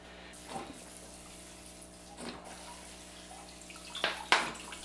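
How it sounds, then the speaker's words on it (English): Water is poured from a small container over the rocks and soil of a tiger bark ficus bonsai in a quiet room, heard as several soft splashing bursts that get louder toward the end. "We'll put some water in this."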